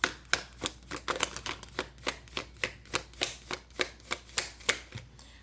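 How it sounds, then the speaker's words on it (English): Tarot cards shuffled by hand at close range in a quiet room, giving a steady run of crisp riffling snaps at roughly three per second, soft and clear, with no talking. "Last shuffle."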